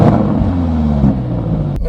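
Range Rover Sport SV with a 635 bhp engine, active exhaust open, giving a loud, deep burbling idle that swells briefly before an abrupt cut near the end.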